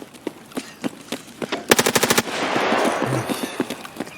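Rapid automatic gunfire in the video game Escape from Tarkov: a tight burst of about eight loud shots, followed by a broad noisy wash and scattered quieter single shots, with no talking.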